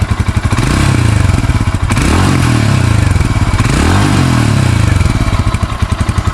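Loud, close stock exhaust of a Royal Enfield Himalayan 400 motorcycle revving with a throbbing thump, the engine note rising and falling in a couple of throttle blips.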